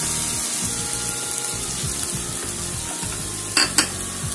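Okra simmers and sizzles in a pan after ground coconut paste is poured in, giving a steady close bubbling hiss; two brief sharp clinks come near the end, with no talking.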